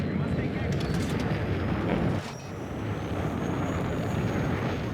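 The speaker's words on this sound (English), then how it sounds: "Now we do have enemy aircraft." Enemy aircraft in the Battlefield 6 video game roar overhead as a loud, steady engine drone that dips briefly midway and then carries on, with battle noise and talk mixed underneath.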